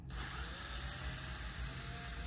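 A low-torque cordless power drill, used as a screwdriver to take the face mask off a Riddell football helmet, whines steadily and loudly for about two seconds with no voices.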